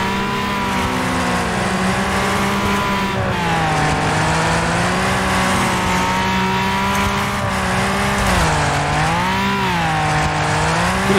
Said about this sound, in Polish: Ten samochód już w ogóle tak brzmi, jakby miał się zaraz rozlecieć